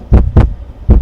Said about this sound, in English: But for many minutes, the heart beat on with a muffled sound.